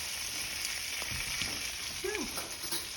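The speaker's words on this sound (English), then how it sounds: "then we put the garlic in with the butter" Garlic sizzles in foaming butter in a hot pan, a steady, close frying hiss with faint stirring scrapes and light crackles throughout, no voices.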